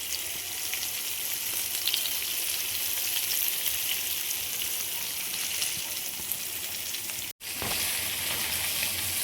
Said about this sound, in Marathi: अशा प्रकारे आपण सगळे बांगडे फ्राय करून घेऊया।